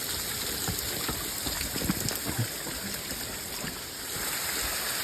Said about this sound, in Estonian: Märg koht ja vesi tilgub meil palju.